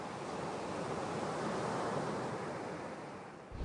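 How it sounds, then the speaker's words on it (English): Ocean surf washing onto the shore near a lower village, a continuous soft rushing wash of breaking waves heard fairly close and steady, with no voices. "You can hear the ocean in the background."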